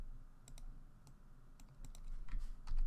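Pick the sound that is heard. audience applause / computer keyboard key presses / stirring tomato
computer keyboard key presses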